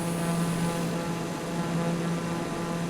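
A TBM 930 turboprop in Microsoft Flight Simulator heard from outside the aircraft, a loud steady engine roar with a constant low drone and a high whine running throughout, no voices.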